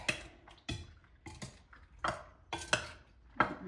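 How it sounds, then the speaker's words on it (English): Hawaiian macaroni salad stirred in a bowl, heard as a handful of separate scraping clinks of a utensil against the bowl at an irregular rhythm, close and soft. "we're gonna stir this all up"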